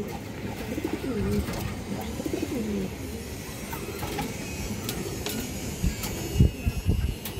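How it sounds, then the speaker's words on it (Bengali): Big-headed pigeons coo in low, throaty repeated calls at close range over a soft background rustle, with a few light knocks toward the end. "এই যে দেখেন বড় মাথার কবুতর"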